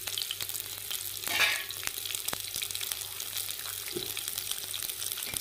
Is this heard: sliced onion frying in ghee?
yes